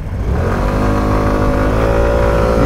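Several motorcycles idle and rev together nearby before a start-of-season parade on a cool day, a steady, loud, throbbing engine drone with no talk.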